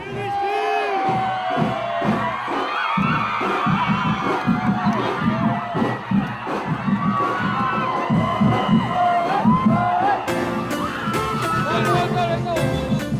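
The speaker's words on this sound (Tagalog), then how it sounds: "dumagundong ang ingay at hiyawan sa mga kalsada ng Tondo" A street crowd in Tondo cheers, whoops and shouts during a dance procession for the Señor Sto. Niño devotion, loud and close, with children's shrieks and babbling voices throughout.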